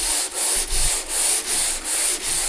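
A sander works a teak countertop for a van cabinet build, making a close, loud, rhythmic rasping scrub with about seven even back-and-forth strokes and brief dips between them.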